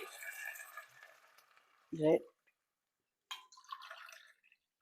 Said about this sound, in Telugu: మూడు గ్లాసు నీళ్ళు పోసాను